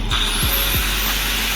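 A grinder works on the steel frame of a racecar trailer with a loud, constant whining roar, close and unbroken for the whole moment, a high tone rising slightly near the top.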